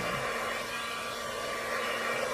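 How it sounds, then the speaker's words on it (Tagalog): An iTera Clear Blower device runs steadily with a loud, even, broadband whoosh and a faint tonal hum underneath, with no talking. "Using this one, iTera Clear Blower."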